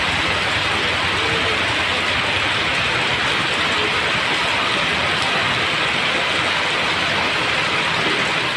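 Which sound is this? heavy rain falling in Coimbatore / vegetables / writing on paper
heavy rain falling in Coimbatore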